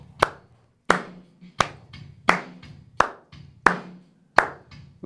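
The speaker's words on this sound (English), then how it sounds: "So let's see if we can clap to the heartbeat of music" A class claps along in unison to a slow, steady beat of music, about seven sharp, evenly spaced claps ringing out clearly and close, with no one talking.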